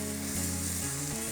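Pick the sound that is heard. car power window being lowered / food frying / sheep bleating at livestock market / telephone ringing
food frying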